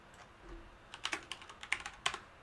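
Fingers tap a computer keyboard in short, quiet bursts of clicks, close but faint, with no one talking.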